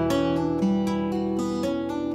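A brief fingerstyle guitar passage played with two-handed tapping, quick, ringing notes repeating over a low bass note, clean and close with no voices.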